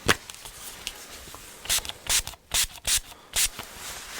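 Several short, airy spritzes from a spray bottle, in quick irregular bursts against a quiet, rustling background.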